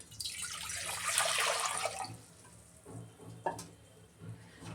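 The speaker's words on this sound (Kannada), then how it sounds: "ಒಂದು 2 ಗ್ಲಾಸ್ ನೀರು ಹಾಕ್ಕೊತಾ ಇದ್ದೀನಿ" Two glasses of water poured into a cooking pot set out for tomato upsaaru, a steady splashing pour for about two seconds, then quieter drips and small knocks.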